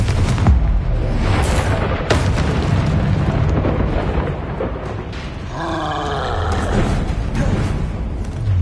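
Confringo fire spell bursting in Hogwarts Legacy on PS5: loud, dense booming roar of explosions and magical blasts filling the whole stretch, with a sharp crack near the two-second mark and a brighter swirling shimmer later on.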